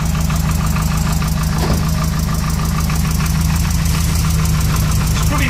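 A Nissan S13 engine running on its first start after four years in storage, a loud, close, continuous idle with a rough knocking pulse and steady vibration throughout, no talking.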